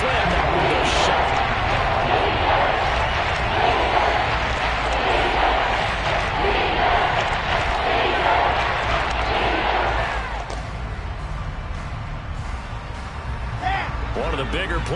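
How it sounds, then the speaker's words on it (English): Stadium crowd in the Madden football video game roaring and cheering ahead of a big third down, a dense, steady wash of noise that eases slightly near the end, with talk over it. "the crowd getting into it as we come up on a big 3rd down"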